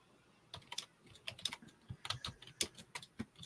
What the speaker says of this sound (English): Right here, typing.